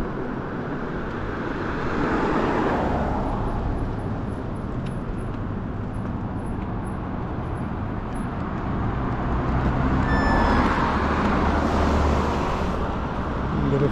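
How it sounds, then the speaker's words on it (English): Steady late-afternoon road traffic, a continuous broadband rumble of passing cars with louder swells as vehicles go by close, heard from an e-bike at the roadside. "Lots of traffic here right now as we get into the late afternoon now."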